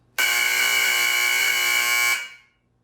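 A competitor's industrial signaling alarm unit for gas detection blares a single loud, steady electronic buzzing tone for about two seconds, then cuts off abruptly with a short decay.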